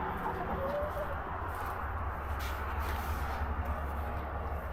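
Chickens on a homestead clucking softly, a low murmuring flock close by with steady chatter and occasional louder calls, over quiet outdoor ambience.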